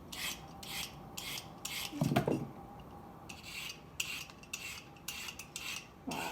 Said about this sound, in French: on va passer les carottes à la mandoline